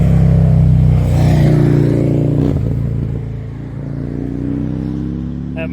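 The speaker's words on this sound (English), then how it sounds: "That motorcycle went around that orange car over the yellow lines." A motorcycle overtakes an orange car across the yellow lines on a winding mountain road, its engine a steady loud drone with a rising surge midway over other passing traffic.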